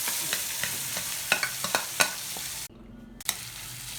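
Fresh turmeric and ginger sauté in sesame oil with salt and chilli powder, a close, steady sizzle punctuated by sharp scraping stirs, then cut off briefly by a sudden silence before the frying resumes.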